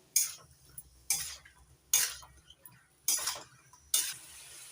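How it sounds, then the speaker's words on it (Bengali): Mung dal with spices stirred in a pan, five distinct scraping strokes at a steady rhythm, each a short close scrape with a faint sizzle between them and no talk. "এবার একটু নাড়াচাড়া করে মিশিয়ে নেব।"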